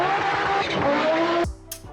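An Audi Quattro Group B rally car with an inline five-cylinder engine, loud and close, a rising engine tone with tire noise that cuts off abruptly near the end, leaving a brief fading tail.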